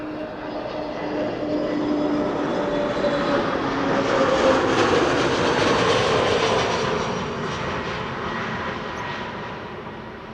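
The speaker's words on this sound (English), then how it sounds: "I also see ITA Airways flight 120 coming this way. Bombardier C-Series 100." An ITA Airways Bombardier C-Series 100 jet arrives at Amsterdam Schiphol Airport, its engine roar swelling to a loud peak mid-pass and then easing off, heard alone without voices.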